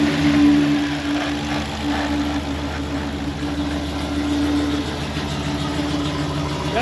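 Jeep fitted with a Demon engine idling outdoors, a steady, deep, loud rumble with a lumpy exhaust note that holds throughout.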